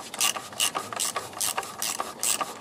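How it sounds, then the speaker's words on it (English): A socket ratchet snugging down the oil drain plug on a Range Rover Sport during a driveway service, giving a series of crisp clicking, rasping strokes in an uneven rhythm, close and fairly quiet. "Tighten it up by hand at first, just to get it there, and finish it off with the socket"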